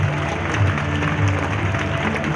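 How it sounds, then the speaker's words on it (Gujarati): An audience at a school annual function applauds in a steady, continuous patter of many hands, moderately loud with no pauses over the short stretch. "તાળીઓનો હર્ષનાદ આપણે ચાલુ રાખશું"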